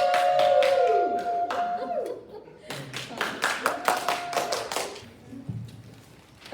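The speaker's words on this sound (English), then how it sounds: "Now audience, we didn't let you applaud and celebrate during the competition," Audience at an Optimist Club communication contest clapping in a room, a short scattered round of claps that grows into a few sharp, uneven bursts before tapering off.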